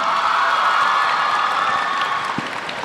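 An audience at a university orientation lecture claps together in a dense, steady round of applause that tapers slightly toward the end.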